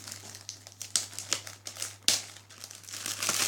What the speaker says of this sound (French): Donc je vais vous déballer ça.